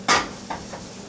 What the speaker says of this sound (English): But you just keep stirring it.